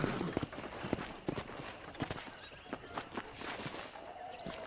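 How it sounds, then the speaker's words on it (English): Horse hooves clip-clop in the Red Dead Redemption video game, a quiet irregular run of soft thuds at walking pace, faint and slightly distant throughout. "I picked out a fine horse for you."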